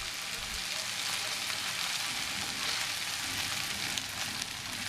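Boiled, drained noodles with fried egg and fried vegetables sizzle steadily in a pan for restaurant-style mixed chicken noodles, a soft, even frying hiss that carries on unbroken throughout.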